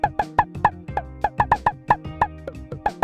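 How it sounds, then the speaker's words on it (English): Sharp, clicky rim shot hits in a quick, uneven pattern over a low sustained tone, each strike bright and percussive. "replace the bass drum with a simpler instrument mapped with rim shot samples"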